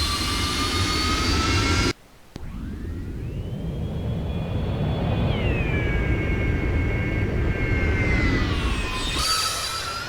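Small aircraft engine in the X-Plane 11 flight simulator, a continuous droning hum with whining tones that rise and fall as power changes, briefly cutting out near the start.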